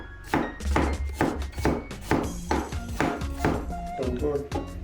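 Thin slicing of onion with a kitchen knife on a board for Korean cold noodles, a steady series of crisp chopping taps about two to three per second, close and clear under light background voice.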